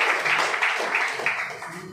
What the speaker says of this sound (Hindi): सबसे पहले जोरदार ताली होना चाहिए